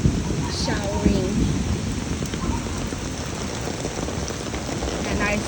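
Steady heavy rain from a summer thunderstorm in New York pours down in a constant dense hiss, with faint traffic and a voice now and then beneath it.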